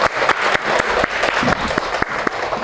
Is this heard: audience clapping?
yes